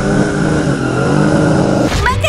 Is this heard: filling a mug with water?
no